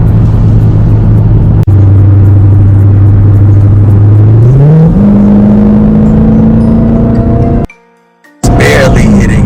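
A Dodge Hellcat Redeye engine drones loudly and rises in pitch as it gently accelerates through city streets, with a brief dip in sound before the roar returns; a voice talks over it.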